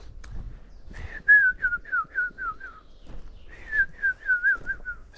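A person whistles two short runs of quick, descending chirpy notes, each a rapid series of five or six slurred tones, imitating a wood warbler's contact call.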